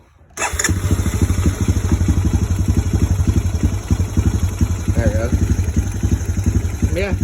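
A 2001 Honda 250EX ATV engine cranks and catches after a brief silence, then settles into a steady, loud, close idle with a rhythmic low putter for several seconds.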